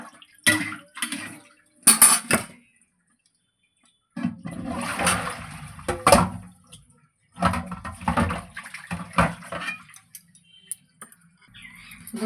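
Water splashes and clatters as a kadai is rinsed in a home kitchen, with irregular bursts of pouring and scraping, metallic knocks and brief pauses, up close with no talk.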